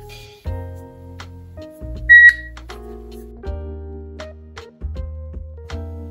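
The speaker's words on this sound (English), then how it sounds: "Please use the device to scan the QR code on your phone until the device emits a tone." An aosu Video Doorbell Ultra gives a short, bright beep while scanning a QR code shown on a phone screen; the single sharp tone stands out over soft background music.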